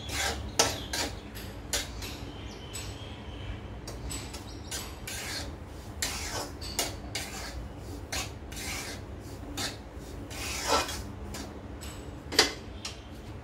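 Semolina (rava) being dry-roasted in a pan for ladoos, with a steady scraping and rasping of a spatula stirring the grains and scattered sharp ticks and clinks against the metal, close and continuous.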